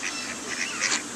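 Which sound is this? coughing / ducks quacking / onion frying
ducks quacking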